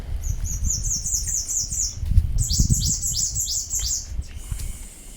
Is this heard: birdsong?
yes